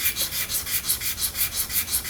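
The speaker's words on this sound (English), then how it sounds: "try to get me a nice flat sand on this granite" A steel gun trigger shoe is rubbed back and forth on a flat granite surface with sandpaper, giving a regular rhythmic scraping of about ten quick strokes, close and fairly soft.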